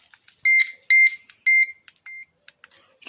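Electronic bite alarm for carp fishing gear, a bedside detector giving a run of sharp high-pitched beeps, three longer tones then shorter chirps, close and clear with no speech.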